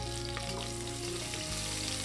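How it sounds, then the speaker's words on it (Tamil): Garlic cloves frying in hot oil with cumin and pepper for black gram rice, a steady close sizzle with faint stirring, no voices. "பூண்டு பல் வதக்கி விட்டுட்டேங்க."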